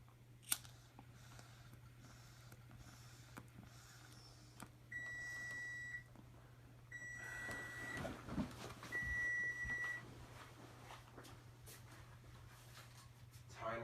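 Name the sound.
oven timer beeping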